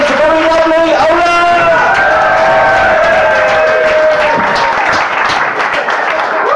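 Audience at a brewery show claps to welcome a performer to the stage, a steady loud round of applause with some cheering while a voice and music-like tones sound over it.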